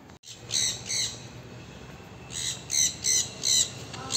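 Large parrots squawking in a bird park aviary in Chandigarh: a harsh, bright call near the start, then a run of four or five loud repeated squawks toward the end over a steady background hum.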